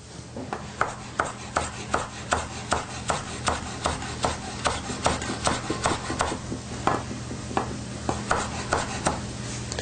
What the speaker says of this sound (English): I'm going to chop some mint really quick.